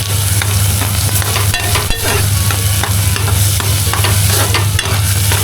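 Ground spice paste (vaatan) for Malvani prawn curry cooks in a pan over low gas, giving a steady close sizzle and soft stirring scrapes with a constant hum underneath, no talking.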